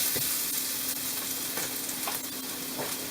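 Minced garlic sizzles and crackles steadily in a hot oiled pan, a bright continuous frying hiss with occasional stirring scrapes, close and alone.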